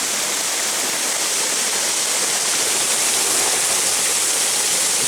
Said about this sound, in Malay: nah suasana di air terjun Alumu